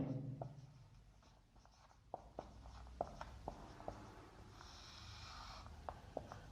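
Chalk or pen scratches and taps come from someone writing physics equations on momentum conservation, as short irregular strokes and clicks that are quiet and close, with no talking.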